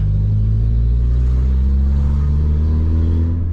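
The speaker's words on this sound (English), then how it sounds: "Oh yeah, the exhaust leak is real." Mk4 Bora Wagon with its muffler deleted and an exhaust leak, droning loudly and steadily up close, a deep rumbling exhaust note held at a fairly constant pitch with no talking.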